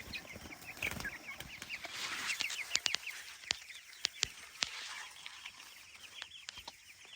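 A flock of about 82 four-week-old chickens in chicken tractors clucks and chirps close by, with a scatter of sharp clicks and taps among the calls.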